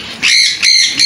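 Pet parrots and small caged birds give three loud, shrill, repeated calls close by, each burst lasting a fraction of a second with brief gaps between them.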